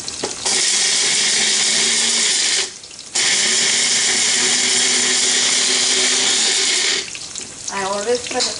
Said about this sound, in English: Cumin, white cumin. 3-4 cloves. cinnamon, and I'm going to grind it.